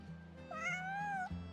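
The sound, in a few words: cat meowing in video game Genshin Impact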